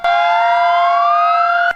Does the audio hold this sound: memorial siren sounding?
yes